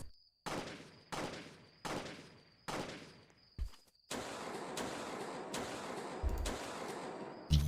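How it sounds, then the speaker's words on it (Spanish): Shotgun and pistol shots in the Roblox game Jailbreak: four loud, evenly spaced blasts with decaying tails, then a dense sustained volley of rapid gunfire, all alone without talk. "Escuchen los disparos."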